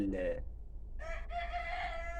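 A rooster with a congenital deformity crows in a poultry flock, a short call followed by a longer drawn-out crow with a brief pause between, clear and fairly close over a low rumbling background.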